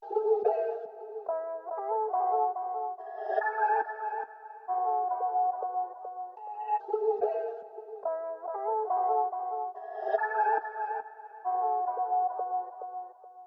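A filtered vintage vocal sample trades phrases back and forth in a looping pattern, a thin, band-limited voice repeating in short melodic bursts, steady and mid-level with no other talk.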